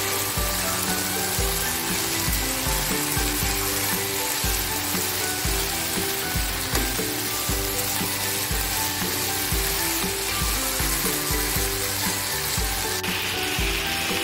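Noni leaves being stir-fried in a hot pan with steady, loud sizzling throughout, punctuated by repeated scraping and clattering of a spatula stirring the leaves.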